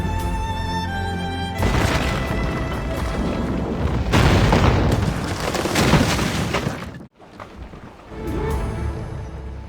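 Ship cannons in Assassin's Creed Rogue boom in heavy, overlapping volleys during a naval battle, loud and sustained, with a brief drop in the middle before the roar resumes; no speech is heard.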